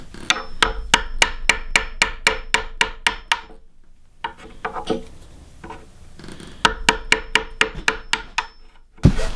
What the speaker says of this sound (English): now we're going to try and chisel this out a little bit.